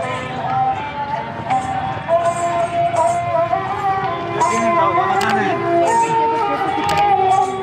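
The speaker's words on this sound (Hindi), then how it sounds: "बहुत भीड़ हो रही है।" Busy crowd at a packed tourist spot in the mountains, with many overlapping voices and chatter, scattered clatter and shouts, and a steady dense murmur throughout.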